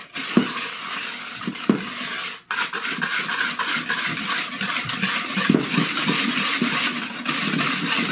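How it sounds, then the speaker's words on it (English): Cream, egg and maple syrup mixture whisked by hand in a bowl for a pudding batter, a steady brisk scraping and clinking running throughout at close range, with one brief pause early on. "Whisk that up."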